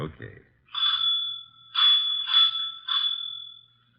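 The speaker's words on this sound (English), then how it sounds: "you had better ring the doorbell" A bright electronic doorbell chimes four times in quick succession, ringing out clearly with a lingering tone after a brief voice at the start.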